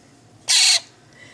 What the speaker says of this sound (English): the mystery bird.